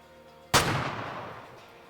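A single sharp hunting rifle shot in the video game Way of the Hunter cracks out loudly over a low steady hum, then rolls off in a long, fading outdoor echo.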